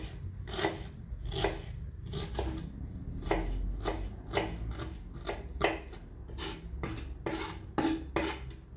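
Knife chopping onions finely on a board, a quick run of sharp, evenly spaced chops with brief pauses, close and clear with no talking.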